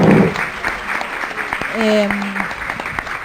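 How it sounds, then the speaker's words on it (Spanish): An audience at a session on accessible reading for people with disabilities applauds a speaker, the clapping moderate and steady throughout. A voice and a brief sustained tone rise over the clapping partway through. "Fuerte aplauso para Analía"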